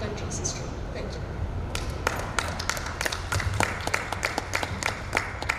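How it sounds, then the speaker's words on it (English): An audience at a youth panel discussion applauds in a sparse, uneven patter of claps that thickens after a moment, set against a steady room murmur and a faint voice early on. "Can we have a little more applause?"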